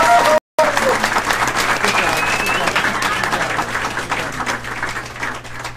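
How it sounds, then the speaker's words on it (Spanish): Audience applause at a Spanish-language business talk event: steady, dense clapping from a crowd that holds at an even level for several seconds after a short break. "Un aplauso, por favor."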